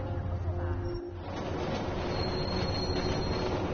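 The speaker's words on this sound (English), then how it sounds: "Hey, I'm grabbing the first train" A train rolls along in a PS4 video game, giving a continuous rumbling, clattering rail noise that stays close and steady throughout.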